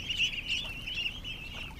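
A flock of ducks with ducklings making continuous close, high peeping and chattering calls that overlap in a busy, steady stream, no voices.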